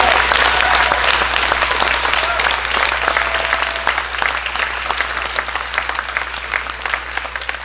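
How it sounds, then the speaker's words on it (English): An audience at an annual memorial missions event gives the volunteers a loud round of applause, dense and continuous, tapering off a little in the second half. "I would like for you to give a round of applause for the volunteers we have."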